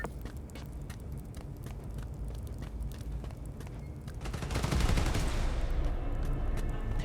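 Gunfire in the Spider-Man: Miles Morales video game, rapid repeated shots crackling throughout, fairly faint, building into a denser burst of fire with a rushing swell partway through.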